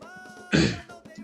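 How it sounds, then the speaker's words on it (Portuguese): One short, rough throat clearing sounds close by, a brief harsh burst between quiet pauses. "me desculpem o pigarro"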